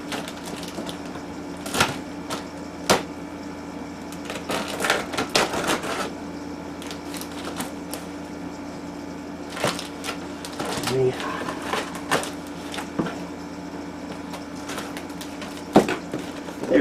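Cardboard packaging for a Packard Bell Force 102CD computer is pulled open, with scattered close crinkles, tearing and sharp flap snaps against a steady background hum.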